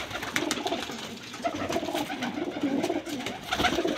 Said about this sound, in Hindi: ये गोल्डन कबूतर